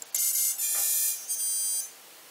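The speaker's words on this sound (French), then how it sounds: "on va entendre un petit bruit des ESC" Drone ESCs on a Naze32 multirotor flight controller sound a series of high electronic tones during throttle calibration, a steady multi-tone beep repeated in short bursts over about two seconds, clear and alone.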